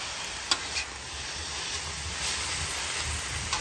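Mirin splashed across a hot flat top grill during a crack slaw cook, giving a steady broad hiss and sizzle with a couple of brief spatter pops, close and even throughout.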